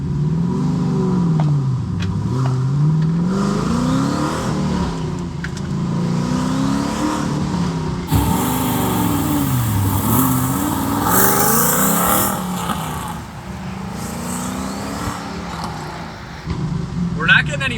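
A twin-turbo Chevrolet Camaro SS accelerates hard outside, its engine rising and falling through repeated revving pulls and gear changes, loud and close, with voices talking over parts of it.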